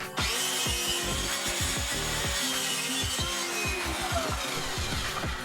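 A circular saw cuts 300 mm wooden strips into pieces for workshop shelves, making a continuous loud whirring, rasping roar up close with rhythmic bursts as the blade bites.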